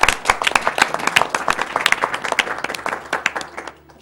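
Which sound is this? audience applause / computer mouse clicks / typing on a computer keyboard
audience applause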